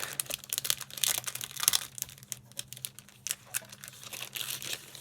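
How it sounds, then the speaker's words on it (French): Plastic wrapping is pulled off a package close up, giving several seconds of dense crinkling and crackling rustles that come in bursts and then ease off, no talk. "Je vais enlever le plastique parce que je pense que ça va un peu vous éblouir."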